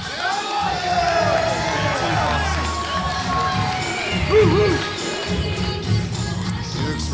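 Crowd cheering and shouting at a boxing gym as a middleweight fighter makes his way to the blue corner, a loud sustained roar with whoops and scattered voices throughout.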